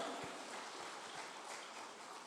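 A church congregation claps in praise, a broad, steady wash of hands filling the room at a moderate, somewhat distant level with no talking over it.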